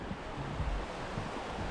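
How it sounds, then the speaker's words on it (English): Mountain river near Lake Louise in Banff, heard as a constant broadband rush of flowing water, loud and steady, with faint low wind rumble. "And there's a river."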